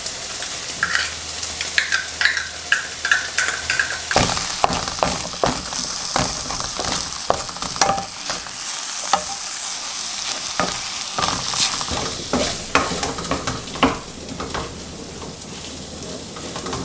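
Tomato paste being stirred into a sizzling venison bolognese sauce, with continuous loud frying hiss and frequent spoon scrapes and clinks against the pan, heard alone without talk.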